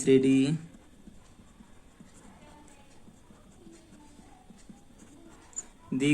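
A teacher writes a solution on a board during a class 10 arithmetic progression lesson, producing soft, faint scratching strokes for several seconds, with a voice talking briefly at the start and end.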